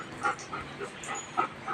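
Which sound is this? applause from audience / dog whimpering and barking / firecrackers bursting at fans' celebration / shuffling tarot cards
dog whimpering and barking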